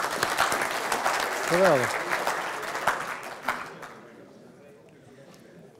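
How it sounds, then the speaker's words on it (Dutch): An audience at a Dutch flood-defence knowledge day applauds a dike inspector who uses a drone: steady dense clapping under a speaking voice, tapering off after about four seconds. "Applaus."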